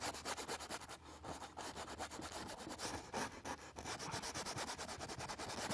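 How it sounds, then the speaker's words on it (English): An eraser scrubs pencil lines off paper in rapid, rhythmic back-and-forth rubbing strokes, close and continuous but soft, with no voices. "So I'm scrubbing all the pencil lines away."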